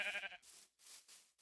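Sheep bleating in a Minecraft-style block-building survival game: one harmonic bleat up front, then a few softer breathy rustling bursts, quiet and alone without talk.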